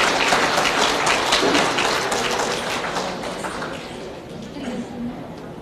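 An audience claps at a Brahma Kumaris Dussehra celebration, a dense wash of applause that gradually fades, with voices talking over it.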